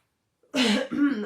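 A single short cough, close and fairly loud, with a rough throaty quality, after a brief silence.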